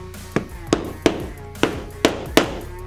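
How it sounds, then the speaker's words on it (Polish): A hole punch is hammered through leather for a snap fastener on an eyeglass case, giving six sharp, evenly spaced knocks about a third of a second apart, close and loud. "Wybiję jeszcze otwory na napę."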